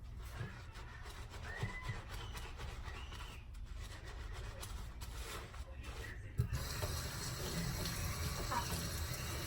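Tap water runs steadily while shampoo is rinsed out of curly hair, a soft continuous splashing and rubbing that grows louder and fuller partway through, with no talking.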